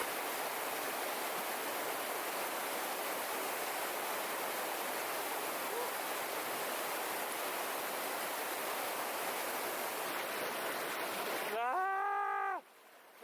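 River water in Alaska flows below a steep cliff, a loud, steady broadband rush close by that ends abruptly near the close, as a voice briefly breaks through.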